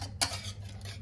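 A whisk works vigorously through a hot, thickening mixture in a saucepan for a classic gluten-free Hungarian Esterhazy cake, with metallic clinks and scraping over a low steady hum.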